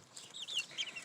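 A young black copper Marans rooster and nearby chicks make a string of thin, high chirps and soft clucks, faint and close, with no voices.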